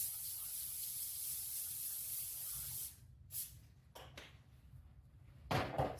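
Cooking spray hisses steadily from a can onto tin foil to keep cheese crackers from sticking, a faint continuous spray lasting about three seconds, followed by light handling clatter and a short second burst.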